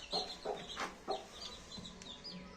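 Several short clucks from bantam hens and chicks, close by, in irregular bursts with soft chirps between them.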